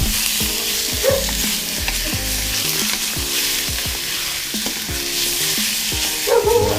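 Pork sizzles and fries in a pan while being stirred, a steady close crackle with repeated scraping, and a dog barks faintly in the background.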